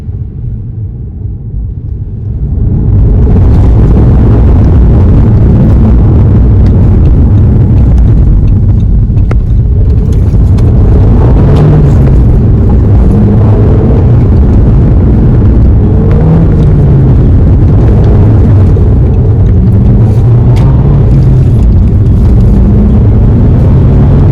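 A 2006 Audi A3 2.0T wagon fitted with a cold air intake, heard from inside while driving: a loud, continuous low rumble of engine and road noise with wind buffeting, building after a quieter start.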